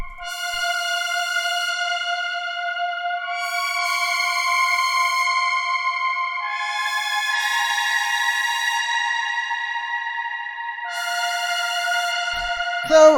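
Synth lead melody from an ambient garage house track, bright harmonic tones with echo effects, playing a simple repeating pattern of sustained notes that shift pitch in phrases, steady and alone with no voices.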